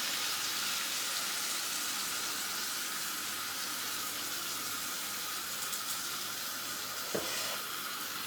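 Egg mixture for an omelette sizzles steadily in a hot pan, a soft even hiss held at a constant level with a small clink near the end and no talking.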